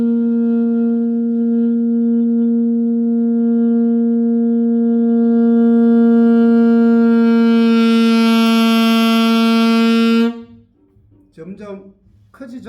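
One sustained saxophone note swells steadily louder and brighter over about ten seconds, then stops, followed by brief faint sounds.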